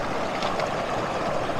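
Water trickles down from a river toward a waterfall in a short, continuous burbling wash.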